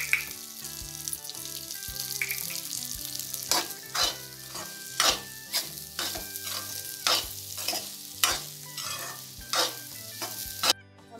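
Semolina roasting in ghee in a pan for sheera, stirred with a spoon, with repeated scraping strokes against a low steady sizzle, close and fairly loud, with no talking.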